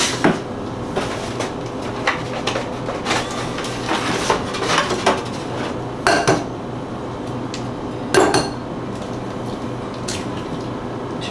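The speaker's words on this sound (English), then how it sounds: "I'm gonna crack 6 eggs into here" Eggs crack one after another against a bowl for brownie batter, giving sharp isolated knocks and clinks spaced a couple of seconds apart over quiet kitchen background.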